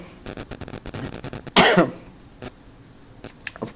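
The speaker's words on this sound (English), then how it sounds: "I'm about to have a coughing fit." A person coughs in a brief fit: a series of quick throat-clearing bursts builds to one loud, harsh cough, followed by a few fainter coughs, heard close in a quiet room.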